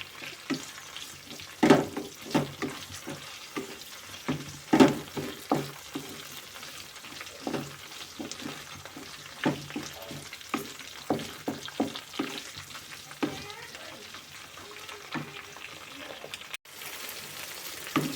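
Curry leaves and green chillies frying in hot oil in a village kitchen: a steady low sizzle broken by repeated sharp crackles and pops, close and moderately loud, with occasional stirring.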